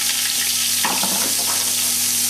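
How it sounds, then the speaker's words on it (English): Diced onion and pureed garlic sweating in a hot pan, a continuous close sizzle with a brief burst of stirring crackle partway through. "We have our diced onion, we have our pureed garlic, they're going into the pan."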